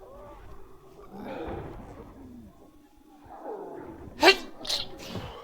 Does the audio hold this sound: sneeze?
yes